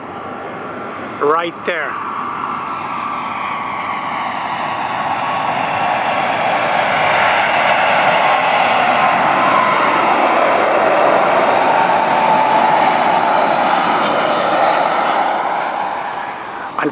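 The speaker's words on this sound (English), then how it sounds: "while an aircraft is landing at the international airport" An airplane landing at Corfu international airport in Kerkyra, its engine roar swelling steadily from a distance into a loud, sustained rumble and whine that dominates the scene, with a brief spoken word near the start.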